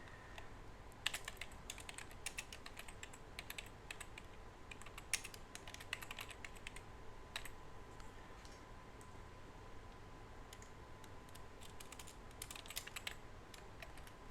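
Fingers type on a computer keyboard in irregular quick bursts of light clicks and taps, with short pauses between runs, against quiet room hum.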